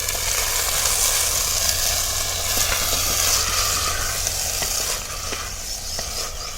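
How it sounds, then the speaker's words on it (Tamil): Mutton pieces hit a pan of frying ginger-garlic masala for Chettinad mutton kulambu, producing a steady, fairly loud sizzle with stirring scrapes and no talking. "இப்போ நம்ம இந்த எடுத்து வச்ச கறியை இதோட சேர்த்துக்கலாம்"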